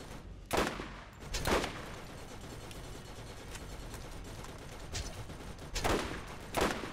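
Enemy gun turret in Borderlands 1 firing in short bursts, four or five sharp volleys spaced a second or so apart over a steady background hum.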